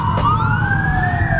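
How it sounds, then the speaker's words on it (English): An emergency vehicle siren wails near the US Capitol in Washington during the January 6th events, a brief, loud rising sweep heard on its own. "We were seeing sirens."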